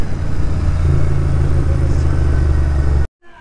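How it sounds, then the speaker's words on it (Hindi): A Royal Enfield GT650 with a full-system exhaust rumbles loud and close, a deep steady engine drone with clattering texture under it, running continuously before cutting out abruptly near the end. "Hyper riding with GT full system exhaust."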